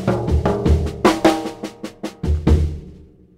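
Drum phrase played with loose, rubato sixteenth notes, a quicker run across the toms followed by a slower figure on the snare, with about a dozen distinct hits at close range and no talking.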